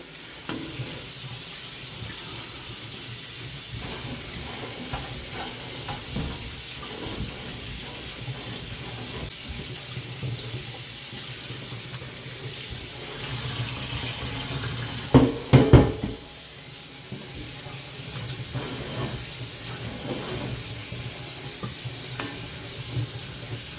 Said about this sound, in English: I'll just give it a rinse with regular water.